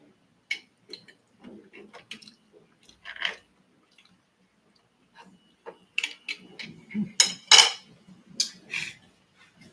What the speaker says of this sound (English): I'm scraping the chocolate off